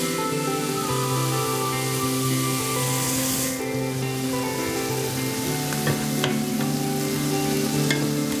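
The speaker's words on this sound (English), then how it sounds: "I want to just saute those for just a few minutes" Pork chops for smothered fried pork chops sautéing in a pan, a loud continuous sizzle and crackle close up, steady throughout with a few faint clicks near the end and no talking.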